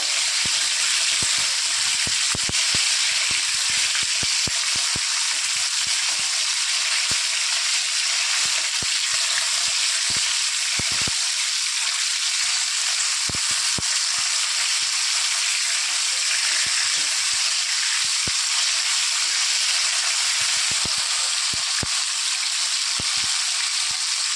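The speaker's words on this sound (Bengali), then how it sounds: "সুন্দর ভাজা হয়ে গেছে আর একটু ভেজে উঠিয়ে দেয়" Bombay duck (loitta) fish frying in oil in a pan give a continuous loud sizzle, dotted with frequent small pops and clicks from the spattering oil throughout.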